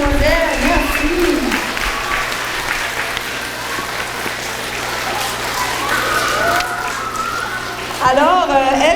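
Audience applause for Mme Chantal, principal of Marguerite Bourgeois school, at a school press launch: dense steady clapping throughout, with talk and voices mixed over it and a brief burst of voice near the end.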